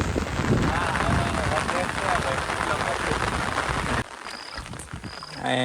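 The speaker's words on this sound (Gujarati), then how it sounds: "વરસાદ વધતો જાય છે હળવે હળવે" Rain falling harder and harder over a village in Botad, a dense steady hiss that cuts off abruptly partway through, leaving quieter outdoor sounds with faint high chirps.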